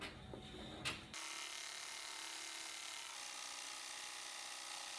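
An embroidery machine stitching a name onto a bag tag starts up after a short bump and then runs with a steady, fast mechanical whir and rattle, close and continuous, with no voices.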